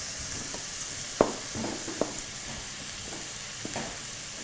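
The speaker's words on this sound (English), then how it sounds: "I'm going to scrape the bottom of the pot best I can to get all of that stuff off" A spoon stirs and scrapes caramelised onions across the bottom of a pot: soft, irregular scraping with a few sharp knocks against the metal over a steady sizzle, no talking.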